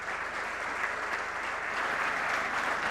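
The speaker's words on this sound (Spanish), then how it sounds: "Un aplauso para ella." A steady wash of applause fills a panel event on development, production and gender equality as Carolina Castro is welcomed, with dense, even clapping from a sizable audience throughout.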